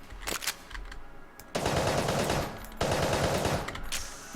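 Rapid bursts of gunfire from the witch pistol in the video game Enter the Gungeon, two long, loud, dense volleys that follow each other closely after a brief quieter stretch.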